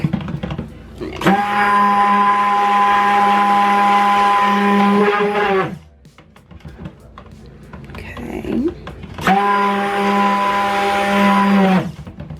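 A stick blender mixes soap batter in two long, loud whirring bursts with a quieter gap between them, when a voice briefly speaks.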